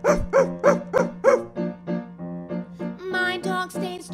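A dog barks in a quick run of five or six clear, close yips, then gives a few softer whimpering barks and a longer whining call at the end.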